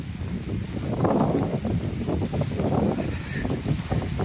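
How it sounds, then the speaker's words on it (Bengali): Gusty wind at a lake viewpoint buffets the microphone with low rumbling thumps, rising and falling throughout. "যা হাওয়া দিচ্ছে, ভয়েসটা কিরকম আসছে জানি না।"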